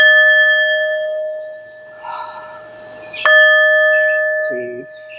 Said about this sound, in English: So I'm gonna hit this bell 3 times,